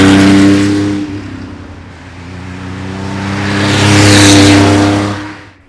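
A Porsche 911 Carrera RS 2.7-litre engine revving loudly nearby, its note dipping then rising again into a strong high-pitched surge before easing off.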